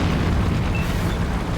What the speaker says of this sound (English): Enemy artillery got a bead on us.